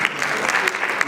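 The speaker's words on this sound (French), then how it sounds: "Oui, vous pouvez applaudir." Applause from a conference audience at an international business forum, a steady patter of clapping from many hands lasting about a second, fairly loud and even with a few sharper claps.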